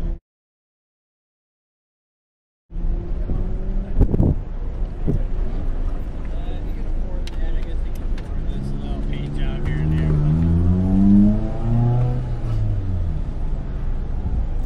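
A Porsche GT3 sports car runs an autocross course, its engine note climbing and falling through quick revs at mid distance, with steady wind buffeting the microphone throughout after a brief silent start.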